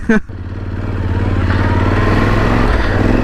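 Yamaha Super Tenere XT1200Z motorcycle from 2011, its engine idling and building into a steady rev after a brief bump, loud and close.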